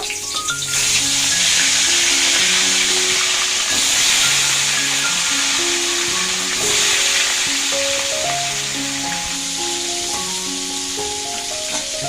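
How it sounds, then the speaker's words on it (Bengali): Pieces of katla carp coated in turmeric and salt fry in hot oil, making a loud continuous sizzling hiss up close that carries on beneath background music. "তেলটা গরম হয়ে গেছে এবার মাছগুলো দিয়ে দেব"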